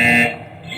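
A loud, harsh buzzer sounds in a wrestling-style rumble event, a single sustained tone lasting about a quarter second before fading into background noise.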